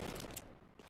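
Fast bursts of AK rifle gunfire from a Counter-Strike esports match, a loud, dense volley that trails off quickly.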